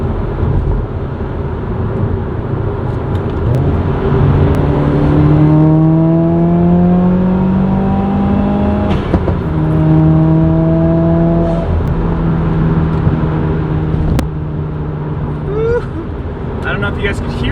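A modded 2016 Subaru WRX on a dyno revs loudly through a third-gear pull, the engine note climbing in repeated sweeps with brief dips at shifts, close and dominant throughout.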